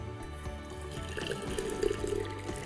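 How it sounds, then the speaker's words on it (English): Boiling water poured from a kettle into a teapot over dried herbs, a soft, fairly quiet splashing trickle that keeps going steadily for a few seconds, with no talking. "I'm going to add some boiling water"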